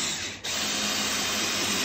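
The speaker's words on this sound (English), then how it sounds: "I don't like impact for these. I just like a drill" Cordless drill driving heavy-duty GRK structural screws into roof brackets, a steady close whirring drone held for nearly two seconds after a brief dip at the start, with no talk.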